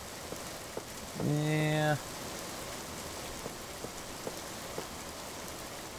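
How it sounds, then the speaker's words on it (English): Rain falls in the video game Minetest as a steady, soft hiss across the whole stretch, with sparse light ticks and one brief spoken word partway through. "Rain just stopped."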